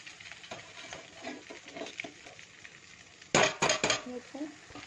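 Maggi noodles being stirred in a pan, a soft scraping patter of utensil against the pan with a louder burst of clattering near the end, fairly close and moderate in volume.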